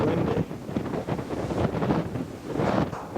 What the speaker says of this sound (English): It's cold and it's windy.